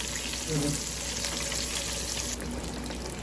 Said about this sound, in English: now I'm going to place it into my frying pan, into the fryer.